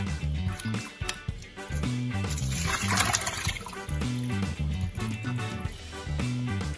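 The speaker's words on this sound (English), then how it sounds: "When I wash, I'm also going to drain. And do not wash with a lot of pressure, just lightly." Raw liver being rinsed lightly under running water and drained, for Jamaican-style liver; a soft, steady wash of water that swells in the middle, heard beneath continuous background music.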